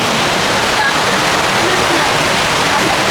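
River water at a campsite in Tanay, Rizal, rushing loudly and steadily as a dense, continuous broadband wash close by, with no breaks.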